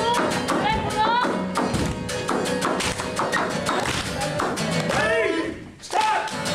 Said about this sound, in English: So I'm going to ask you all to clap along